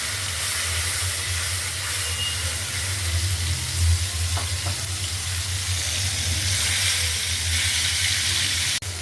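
Spices and potatoes fry in a pan with oil, producing a steady, close, loud sizzling hiss that continues without break, with a faint stir or clink partway through and a brief knock at the end.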